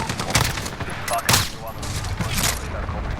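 Loud, dense bursts of rapid automatic gunfire from Call of Duty Modern Warfare multiplayer on PS4, two sharper peaks standing out over a continuous rattle of shots.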